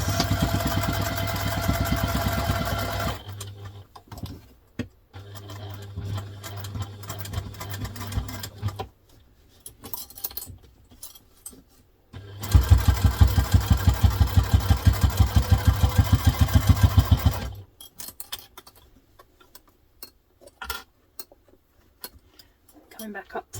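A sewing machine stitches a diaper clutch seam in two runs of steady, fast mechanical chatter, the second louder and longer, with quieter handling pauses between them.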